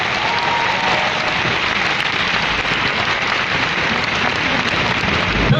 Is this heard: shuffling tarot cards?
no